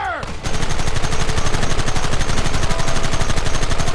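Sustained gunfire in the Red Dead Redemption video game, a dense, loud, rapid rattle of overlapping shots after a brief opening moment, continuing without pause.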